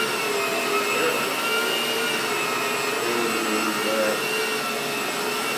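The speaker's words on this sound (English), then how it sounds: "1980 Electrolux Olympia. It sucks." A 1980 Electrolux Olympia vacuum cleaner running steadily, a loud, even whine with a rushing airflow roar held constant throughout, close by and with no voices.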